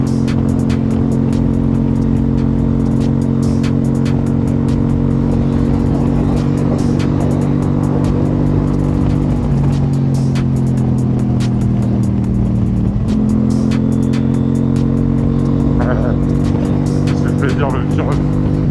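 A KTM 790 motorcycle being ridden, its engine droning steadily with strong harmonic tones that dip and jump at a fumbled quickshifter gear change, heard close and loud throughout.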